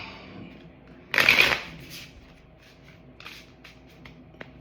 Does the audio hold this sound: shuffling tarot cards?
yes